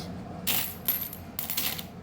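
Coins clink and drop onto a surface as they are counted out during a couple's kitty card game. There are two distinct bursts of metallic jingling, close and clear, with no voices.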